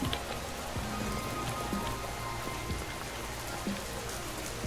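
Rain in a video game falls in a steady, close patter of drops on a surface, with occasional low thumps beneath and no voices.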